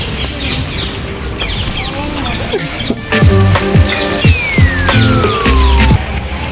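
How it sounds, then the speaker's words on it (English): Birds cluck and squawk in a busy park in Seville, Spain, with harsh calls clustering in the second half and a rising whistle-like tone sweeping down. "He's literally chasing these birds."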